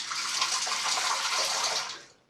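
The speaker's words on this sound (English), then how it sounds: "Now I'm going to put a drop of water in the sink" Water runs steadily from a tap into a bathroom sink for about two seconds, a close, even hiss that tapers off as the flow stops, during a straight razor shave.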